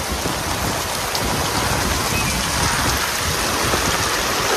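A sudden heavy rainstorm pounds down near an open-air cooking spot in a village, a dense, loud, unbroken roar of rain on surfaces with no voices over it.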